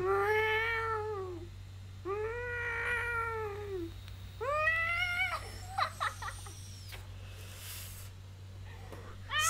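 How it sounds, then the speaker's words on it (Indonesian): A cat meows several times in a row, long drawn-out calls rising and falling, over a steady low hum. "tutorial mengeong tutorial berbicara dengan bahasa kucing"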